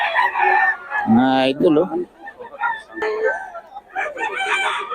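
Young roosters crow on a farm where game fowl are kept, with several loud nearby crows and clucks that overlap with people talking.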